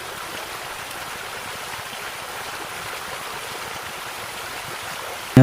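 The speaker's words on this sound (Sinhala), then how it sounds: "ඔයාලට මේ වගේ ලස්සන දිය පාරවල් හොඳට බලා ගන්න පුළුවන් සඳකල තැන්න පාරේ යනකොට" A mountain stream flows along the Sadagalathenna trail to Sri Pada, a steady broadband rush of water close by that stays even throughout with no voices.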